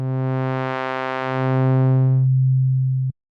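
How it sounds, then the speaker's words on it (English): A phase distortion synthesis tone from a wavetable synth plays as a sustained buzzy note with bright overtones that fade away, leaving a pure low tone that stops abruptly after about three seconds. "So we can hear phase distortion by itself by increasing this amount knob here."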